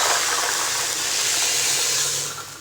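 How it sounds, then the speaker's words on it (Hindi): Peas sizzle in ghee in a pan, a steady, loud frying hiss that runs continuously and fades slightly at the end, with no voices. "अब देखिए मटरों को हमने फ्राई कर लिया।"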